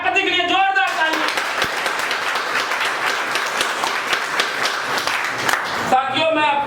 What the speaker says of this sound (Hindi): यहाँ एक बार उस लाखपति के लिए जोरदार तालियां।